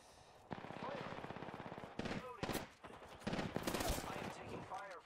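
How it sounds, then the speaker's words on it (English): Bursts of automatic gunfire and scattered shots in an Xbox shooter game ring out repeatedly over several seconds, with fast rattling volleys and some voice chatter mixed in. "I am taking fire, friends."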